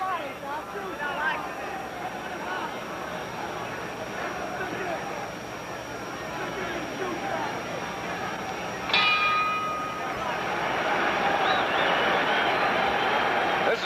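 A ringside bell clangs at Madison Square Garden to end a boxing round, its sharp ring rising over a busy crowd murmur and a commentator's voice.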